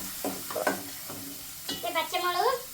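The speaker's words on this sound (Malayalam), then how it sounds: "പച്ചമുളകും വെളുത്തുള്ളിയൊക്കെ കൂടി ഇട്ട് അങ്ങനെ അതെല്ലാം കൂടി വഴറ്റിക്കൊണ്ടിരിക്കുകയാണ്" Green chilies and garlic sautéing in a pan for tomato rice, with stirring scrapes and a light sizzle under a voice talking throughout.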